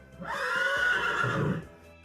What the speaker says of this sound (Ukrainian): Кінь